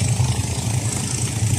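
A car engine idling and pulling off a pincara ferry boat at a river crossing in Bone, Bugis land, a loud steady close rumble without talk.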